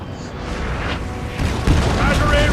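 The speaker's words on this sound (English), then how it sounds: "They're setting up some of their artillery here." Artillery fires in a battle in the video game Napoleon Total War, with heavy low booms over a rumbling wash of combat noise and the strongest blast landing past the midpoint.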